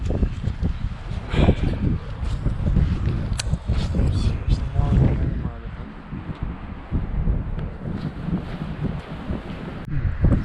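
Gusty wind on a Colorado cliffside buffeting the microphone with low rumbling roars, while people talk nearby under the blustery noise.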